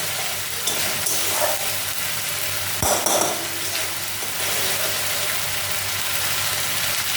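Spice paste for an egg curry sautéing in hot oil, a steady close sizzle and crackle that runs throughout with a brief louder stir partway through.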